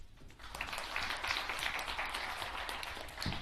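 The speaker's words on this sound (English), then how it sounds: "Please welcome Ms. Michele Wucker with a round of applause" A conference audience breaks into a round of applause for a speaker, a soft, moderately distant patter of many hands that builds, holds for a few seconds and trails off.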